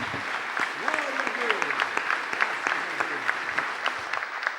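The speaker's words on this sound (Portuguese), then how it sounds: "Vamos aplaudir ao Senhor Jesus." Church congregation applauding at a pastors' gathering, a steady patter of many hands at moderate level with scattered voices and shouts mixed in.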